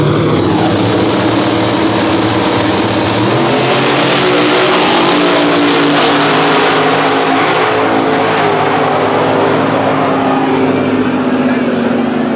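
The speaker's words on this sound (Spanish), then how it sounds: "Vamos a grabar estos motores, Corillo." Race car engines roar at Orlando Speed World, a loud continuous blare of revving and passing cars with pitch sweeping up and down, crowd noise blended underneath.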